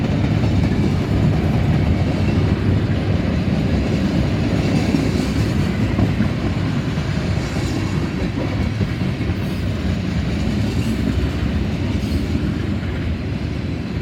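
Freight train of tank cars, covered hoppers, lumber cars, box cars and steel coil cars rolling past close by at Deshler, a loud continuous rumble with wheel clatter that holds steady throughout, no voices.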